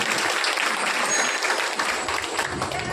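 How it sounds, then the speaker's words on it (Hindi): Loud, dense welcoming applause from an audience at a Shrimad Bhagavat Katha religious gathering, continuous clapping filling the whole stretch without a break. "जोरदार तालियों से इनका स्वागत अभिनंदन होगा।"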